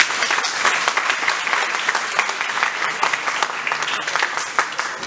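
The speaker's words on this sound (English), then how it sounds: "everyone please welcome him with a big round of applause" An audience at a Human Rights Day panel event gives a sustained round of applause welcoming a panelist, many hands clapping densely and evenly for five seconds, fairly loud.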